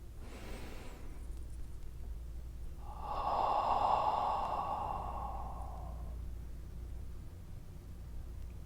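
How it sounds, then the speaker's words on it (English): One slow, deep breath during a meditation exercise, drawn in through the nose and let out through the mouth, soft and close with a quiet hiss, alone against a faint background. "Take some deep breaths in through your nose, out from your mouth."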